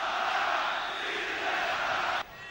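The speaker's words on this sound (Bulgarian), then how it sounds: "Публиката на сините започна да скандира Тодор Колев" Levski Sofia supporters in a football stadium during a Champions League match against Dynamo Kyiv chant Todor Kolev's name, a broad sustained roar of many voices that drops abruptly near the end.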